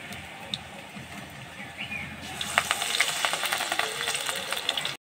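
Coriander leaves hit hot oil partway through, and the quiet background jumps into a loud, crackling sizzle that keeps popping until it cuts off abruptly.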